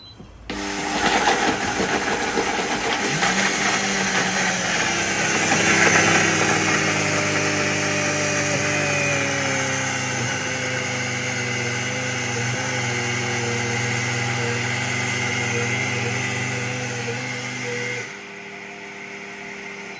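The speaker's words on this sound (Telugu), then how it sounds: "వేసిన తర్వాత మిక్సీలో ఒకసారి ఇలాగే తిప్పుకొని" An electric mixer grinder grinds roasted ragi with cardamom and cashews, giving a loud, steady motor whine. It runs continuously for about seventeen seconds, then cuts off, and no one speaks.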